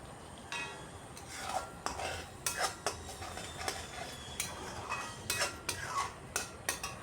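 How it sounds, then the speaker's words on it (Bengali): A spatula scraping and tapping in a pan as a gravy with a little sugar is stirred and cooked down for a kankrol dish, with quiet, irregular clinks and scrapes over a faint low sizzle. "চিনি দিয়েও গ্রেভিটাকে আরও কিছুক্ষণ আমি কষিয়ে নিচ্ছি"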